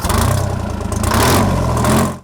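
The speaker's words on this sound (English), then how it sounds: "It's also got a 371 Detroit diesel engine in it, which is kind of normally called the Screaming Jimmy, because it does make a lot of noise." A tractor's 371 Detroit diesel engine runs loud and close with a steady, rough throbbing roar and a slight rise in pitch, then cuts off abruptly at the end.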